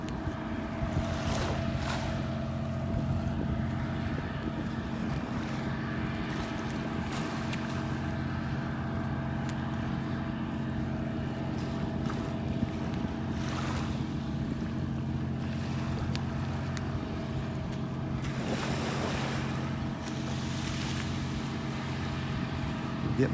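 A dredging barge engine drones low and steady offshore at a North Naples, Florida beach at sunrise. Soft surf and wind noise run under it throughout.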